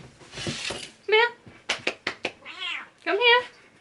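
Domestic cat meowing at home, a string of loud close meows and drawn-out caterwauls, mixed with short chirps, under no talk.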